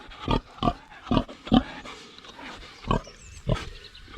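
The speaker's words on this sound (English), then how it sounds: "here comes our Piggy" A friendly pig grunts in short, low, snorting bursts close by, around eight separate grunts spaced irregularly over a few seconds, with quiet gaps between them.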